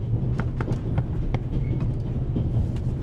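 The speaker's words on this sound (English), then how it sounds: "The noise on this train is driving me crazy." A steady low rumble of the Orient Express train in the video game The Raven: Legacy of a Master Thief rolls on throughout, with faint rhythmic clicks and knocks riding over the constant drone.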